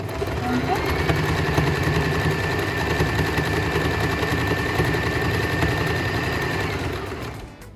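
Sewing machine stitching a corner of a washable, reusable cloth, a loud steady motor whir that runs for several seconds and then stops.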